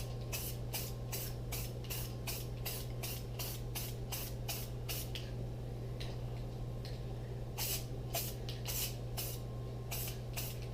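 Rapid bursts of spray from a gun laying a light coat of lacquer over orange-dyed wood, short hissing pulses repeating steadily at close range, with a pause midway before the rhythm resumes over a steady low hum.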